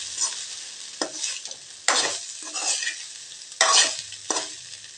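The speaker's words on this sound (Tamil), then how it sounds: "நல்லா கிளறி விட்டுக்கலாங்க." Carrot stir-fry being stirred in a pan: a run of distinct scraping strokes, each a bright burst, over a soft continuous sizzle, close and fairly loud with no voices.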